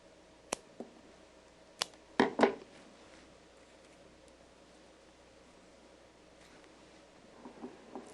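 Florist scissors cut spray chrysanthemum stems for a crescent-style floral arrangement, giving four or five short, crisp snips in two quick pairs, with a longer quiet stretch after and faint rustling near the end.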